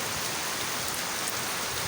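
Rain pours steadily outside a house, a dense, even hiss of drops at constant loudness throughout, with no voices.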